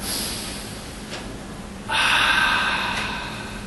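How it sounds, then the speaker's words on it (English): One deep, slow cleansing breath is drawn in through the nose and then released as a long, steady, airy exhale close to the microphone, with no talking. "that nice, deep, cleansing breath"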